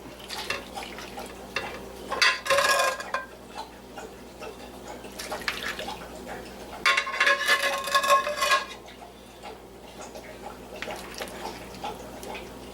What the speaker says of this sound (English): Definitely want to spoon that broth and butter over that.